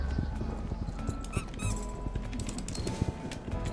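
Rhythmic hoof clip-clops tap along steadily over a low background hum, with occasional squeaky digital effects mixed in, in the video game Star Stable.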